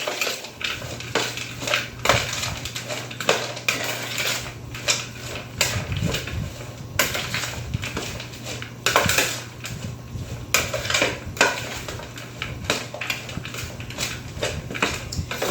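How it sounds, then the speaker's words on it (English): Green bean casserole being mixed with fried shallots in a dish, giving a steady run of scraping and clinking of a utensil against the dish, close and fairly loud, with no talking. "I'm going to mix this up really good right quick"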